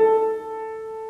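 A tritone interval held as a sustained, steady two-note chord in a lecture recital on Schoenberg's De Profundis, sounding alone and fairly soft, with the upper tone fading slightly after the first moment.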